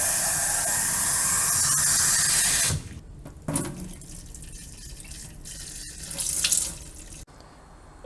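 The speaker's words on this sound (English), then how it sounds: "we're just going to continue rinsing and draining" Tap water runs steadily while sprouts are rinsed and drained, a loud continuous splash that drops to a quieter trickle and dripping partway through, then surges again briefly.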